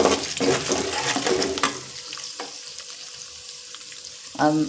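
Oil hisses loudly in a pan for about two seconds with scraping stirs, then drops to a quieter, thinner sizzle. A brief clatter comes at the end, with no speech.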